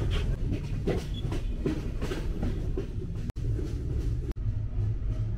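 Chitra Express passenger train running, heard from inside as a steady rumble with rhythmic clickety-clack of wheels over rail joints and two brief sharp drops.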